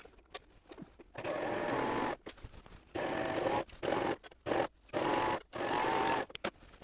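A serger stitches an apron seam in a series of fast whirring bursts, each run lasting about a second and separated by short pauses, close and clear.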